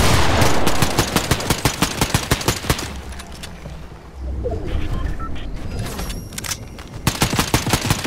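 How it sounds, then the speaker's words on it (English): Rapid bursts from an explosive rifle in Fortnite: fast, sharp repeated shots in a dense volley at first, a lull with scattered pops and rumbling, then another quick burst of fire at the end. "That was an explosive rifle."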